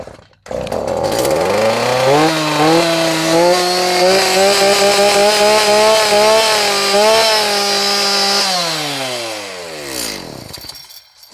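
A small engine runs loud and close at a steady high idle, its buzzing tone climbing, holding, then winding down before it cuts off.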